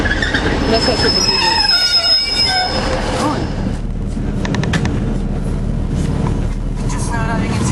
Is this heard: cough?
no